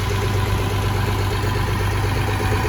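A restored 1850 tractor hooked to a Van Brunt seed drill idles steadily close by, a constant low mechanical rumble with no change in pace and no voices.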